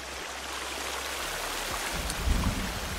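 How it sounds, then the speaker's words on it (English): A waterfall in the survival video game Sons Of The Forest pours as a steady, broad rushing wash of water, close and constant throughout with no talk. "There's a waterfall."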